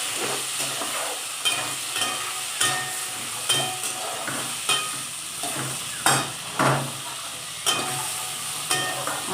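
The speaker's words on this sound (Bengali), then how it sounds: "বরবটি আলু পেঁয়াজ দিয়ে ভাজা।" Yardlong beans, potato and onion stir-frying in a pan on a gas stove: a steady sizzle under a regular rhythm of spatula scrapes and stirring strokes, close and fairly loud, with no talking.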